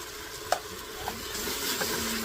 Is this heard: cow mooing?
no